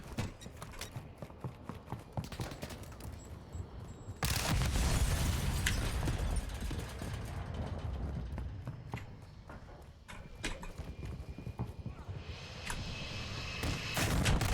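A VTOL aircraft firing explosives from the sky in Call of Duty: scattered clatter gives way to a sudden heavy, rumbling barrage that stays loud and dense, with sharp impacts continuing to the end.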